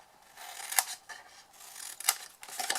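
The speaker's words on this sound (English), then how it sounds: "Cut your wedges out of your corners to create tabs." Scissors cut wedges out of the corners of scored card, giving a few close, crisp snips spaced about a second apart with quiet rustling between them.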